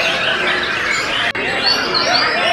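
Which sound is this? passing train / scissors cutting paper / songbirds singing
songbirds singing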